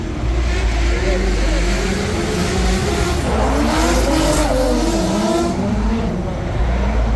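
Race cars roar past nearby at the Long Beach Grand Prix, engines whining and tires squealing over a constant loud wash of crowd noise and voices.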